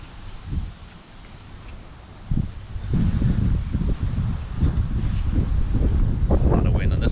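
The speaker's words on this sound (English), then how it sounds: "A lot of wind on this one." Heavy wind buffets the internal microphones of a GoPro Hero 8 outdoors, a constant low roar with gusty thumps that grows louder and steadier midway, while a person moves about.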